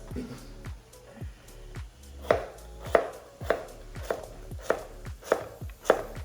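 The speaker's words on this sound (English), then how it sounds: "now, while this cooks down, finish cutting our yucca" Yucca is chopped with a knife on a board in a regular series of crisp, close thuds, about one every half second, getting louder as it goes on.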